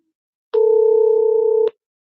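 A telephone dial tone sounds as a single steady electronic tone, loud and close, lasting just over a second before cutting off cleanly, with silence on either side.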